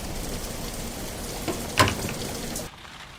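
Steady rain falls as the first rain of the season, a soft, even hiss of drops on surfaces with one brief louder patter near the middle before it fades away.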